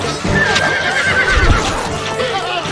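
A horse in Stronghold Crusader lets out a loud, close whinny over clip-clopping hooves, with a voice speaking alongside.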